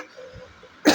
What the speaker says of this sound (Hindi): तो बहुत खांसी हो रहा है